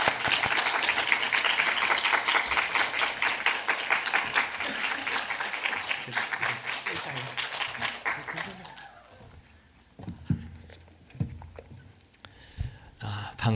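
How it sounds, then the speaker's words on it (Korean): A church congregation at a Wednesday evening service claps in sustained applause welcoming a pastor, gradually fading out, followed by a few scattered claps and a voice beginning to speak. "우리 그 마음을 담아서 박수로 모시도록 하겠습니다."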